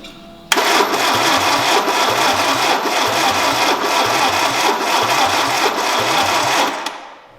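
A Peugeot 309 GTI engine, unstarted for 22 years, cranks and catches, then runs loud and steady with a rough, uneven, throbbing idle before cutting out near the end.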